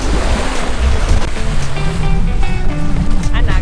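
Waves wash continuously onto a Caribbean beach in Antigua in a loud, broadband surf roar with some wind, while faint tones and voices sit underneath.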